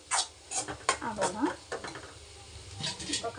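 Spicy puffed rice with coriander leaves is stirred in a pan, giving dry scraping and rustling strokes in an uneven rhythm, close and fairly soft.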